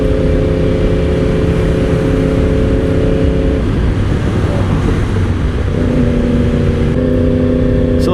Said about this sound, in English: So no clutch, just quick shifting while we're keeping it in cruise control.